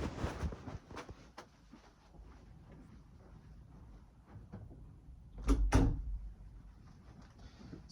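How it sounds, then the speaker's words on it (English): A bedroom door closes nearby with a soft shuffle, then a sharp, solid thud and a latch click about two-thirds of the way through. No one speaks. "I'm going to close my door."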